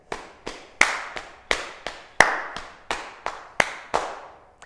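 Body percussion in a steady rhythmic pattern of sharp hand claps and softer pats or taps, about a dozen crisp strikes close by, each decaying quickly, with no talking.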